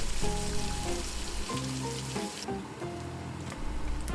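Small diced pieces of pork belly fry in a pan, giving a moderate, even sizzle. Faint tonal music runs underneath, and the hiss drops away noticeably partway through.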